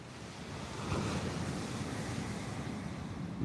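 Waves rolling on a choppy, bumpy sea at night, heard from a fishing kayak as a steady broadband wash with wind noise on the microphone and a brief surge, no talk.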